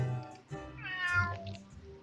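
A domestic cat meows in a short two-part call, close and clear, with no talking over it.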